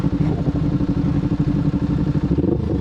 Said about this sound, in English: From my perspective on this bike sounds real good